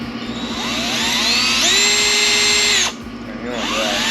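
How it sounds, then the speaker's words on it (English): Power drill boring out a rear main seal, loud and close, with a whining motor that rises in pitch under load, stops briefly, then spins up again. "So, let's get this drilled out,"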